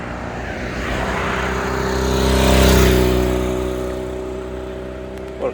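A 1965 Honda Dream Benly 150 motorcycle runs with a steady, close engine note that swells louder midway and then eases back, ending with a brief click.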